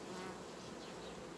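Honey bees buzzing at a hive during colony unification with a mesh divider board: a dense, steady, close drone of many bees, continuous and even, with no voices.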